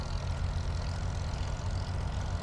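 Hawker Hurricane with a Merlin engine taxiing on the ground in a flight simulator, a steady deep rumbling drone with a pulsing low throb, loud and continuous with no talk.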